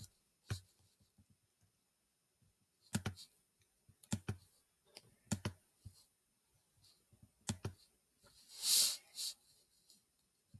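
Computer mouse clicks and keyboard typing at a desk, sparse sharp taps in small clusters with quiet gaps between, close and fairly soft, with a brief hissy burst near the end.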